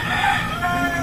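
A rooster crows once in a long, drawn-out call, fairly close, with no talking.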